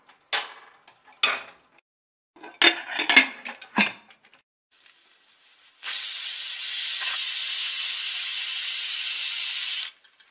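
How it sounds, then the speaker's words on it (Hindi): A pressure cooker on a stove lets out one long, loud, steady hissing whistle while dal cooks on medium heat. Several short rattles and clanks come first. "दाल में 1 सीटी लग गई है"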